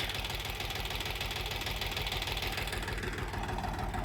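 A Kentavr 244 mini tractor with a homemade cab runs steadily in a field, its engine giving a continuous, fairly loud knocking chug with an even rhythm throughout.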